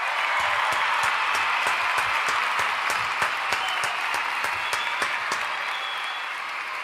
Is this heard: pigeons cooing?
no